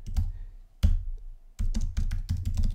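Fast clattering keystrokes on a computer keyboard as text is typed in, short bursts of close taps separated by brief pauses, with no talking.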